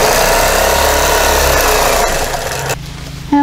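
A sewing machine free-motion quilting a flying geese quilt gives a steady, loud motor drone that runs continuously, then cuts off near the end, leaving a brief quieter moment.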